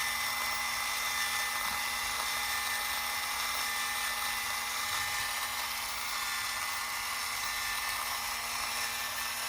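A battery-powered electric spice chopper whirs continuously while grinding salt, a steady high-pitched motor drone close by at even loudness throughout with no talking.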